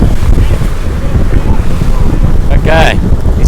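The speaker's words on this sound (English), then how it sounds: "It's a bit windy. There's 25 knots coming through here now, gusting higher." Strong wind at sea around 25 knots and gusting, roaring steadily and loudly across the microphone with waves and a sailing boat in the mix, and a brief high whistle-like tone near the end.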